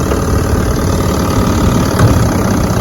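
Vintage Evinrude outboard motor running out on a lake, a loud, steady, continuous engine drone with a rough low throb, close by and without talk.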